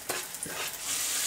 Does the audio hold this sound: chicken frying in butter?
yes